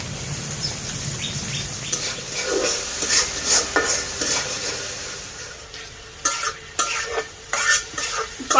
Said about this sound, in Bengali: কষানো হয়ে গেছে ডাটা,